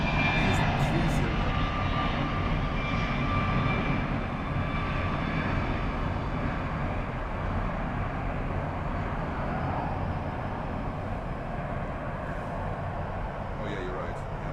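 Plane on runway 30 at Miami Airport: a steady, loud roar of aircraft engines fills the whole stretch, slowly easing off, with faint voices underneath.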